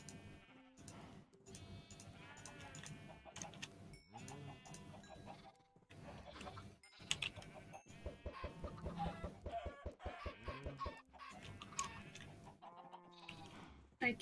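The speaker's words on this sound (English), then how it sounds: "Little chickens." Small chickens in a survival video game cluck and peep in a series of short, choppy calls, with a bleating animal mixed in. The birds sound close, moderately loud, and grow busier partway through.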